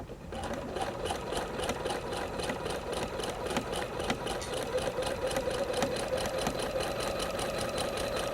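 A sewing machine stitches cotton quilt fabric with a steady, close, continuous mechanical whir and rapid needle rhythm, running without pause and with no voices.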